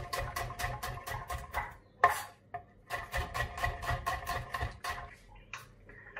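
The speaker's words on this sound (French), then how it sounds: "Donc comme j'ai dit, on coupe les oignons." Knife chopping onions on a board, a quick run of close, crisp taps, a short pause, then another steady run of chopping.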